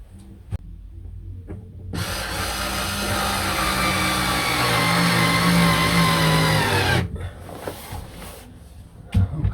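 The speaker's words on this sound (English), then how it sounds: "I'll get these drilled on" Power drill driving fittings into the overhead ceiling of a boat under restoration, a loud continuous whirring burst lasting about five seconds, bracketed by quieter knocks and handling clatter before and after.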